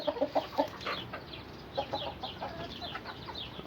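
Chickens cluck and squawk in short agitated bursts as a rooster attacks hens, with flustered calls scattered throughout over a noisy background.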